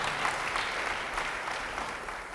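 A church congregation breaks into steady applause during a sermon, a moderately loud, even patter of many hands clapping together for a couple of seconds.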